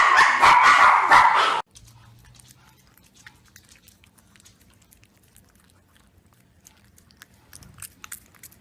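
A dog playing with a toy among other dogs: a short burst of loud, close chewing and gnawing, followed by faint scattered clicks and rustles.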